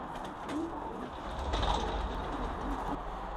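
Young pigeons in a group of ten give a few soft, low coos. The coos are faint and sit under a steady background rustle and hiss.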